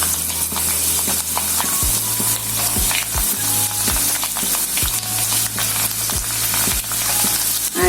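Cumin and garlic frying in hot oil in a pan for chival bhaji zunka, a loud steady sizzle with intermittent spatula scrapes and knocks, close up and without speech.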